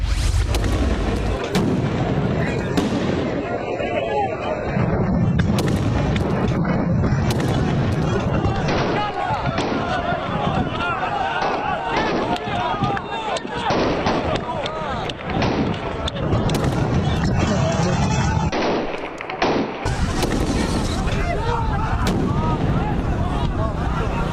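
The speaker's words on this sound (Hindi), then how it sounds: "इसराइल की फायरिंग और गोलाबारी, नमाज फिर भी जारी, गोलियां और सजदे साथ साथ" Gunfire and shelling along the Gaza border: repeated loud cracks and heavy booms burst irregularly over a dense, noisy background for the whole stretch, with voices mixed in underneath.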